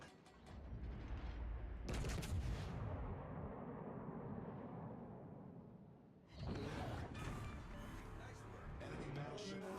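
Warship guns fire in a naval combat video game, with heavy booming blasts and rumbling explosions in two long bursts separated by a quieter stretch, loud and continuous.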